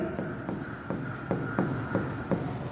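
Marker or chalk writing out plant and machinery figures on a board during a company liquidation accounts lesson, steady scratchy strokes in short bursts, close and fairly quiet, with a faint voice underneath.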